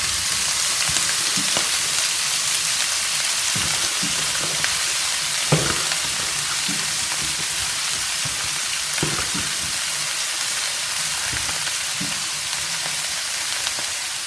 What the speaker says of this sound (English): On this, I'm just adding in my spinach.